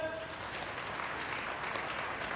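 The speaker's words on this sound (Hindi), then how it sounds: "इनके लिए एक बार जोरदार तालियां हो जाए।" A hotel-hall audience at a motivational talk breaks into steady, dense applause, a broadband wash of many hands clapping at even loudness, moderately distant, with no voice over it.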